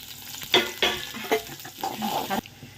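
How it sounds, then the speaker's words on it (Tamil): Sliced onions hitting hot oil in a pan, a crackling sizzle with several sharp bursts as they are stirred, close and fairly loud. "கொஞ்சம் ஆயில் கூட சூடாக ஆயிடுச்சு வெங்காயத்தை சேர்த்துக்கலாம்"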